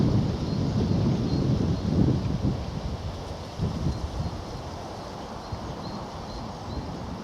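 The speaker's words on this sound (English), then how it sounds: "The wind's picking up, I notice. You might be able to hear it now on the commentary" Strong outdoor wind gusting steadily on a chilly country walk between Knockholt and Otford, a dense low roar with buffeting surges into the microphone, loud and continuous throughout with no talk.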